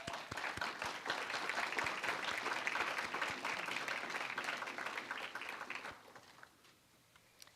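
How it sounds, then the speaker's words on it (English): An audience at an LPN nursing graduation ceremony claps steadily for about six seconds, a dense, moderately distant patter of many hands that quickly tapers off into near quiet. "I'd just like us all to give them another hand of applause"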